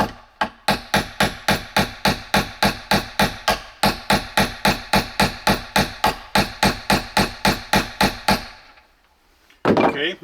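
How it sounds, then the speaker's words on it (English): Rapid, evenly spaced hammer blows drive a survival knife into a massive chunk of wood, about three strikes per second, loud and close, stopping abruptly before a final scraping clatter. "we'll do that by hammering it into this massive chunk of wood"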